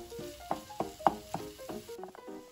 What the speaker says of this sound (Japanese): そぼろになるようにしっかりとほぐしながら炒めていきましょう。